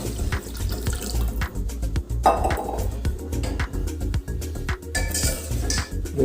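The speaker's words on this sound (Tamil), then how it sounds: "வறுத்ததுக்கப்புறம் இதற்கு வேகிறதுக்காக கொஞ்சம் தண்ணி ஆட் பண்ணிடலாம்" Water pours into a pan of ghee-roasted broken wheat for kheer, a close, steady stream with sizzling and clattering utensil sounds running throughout.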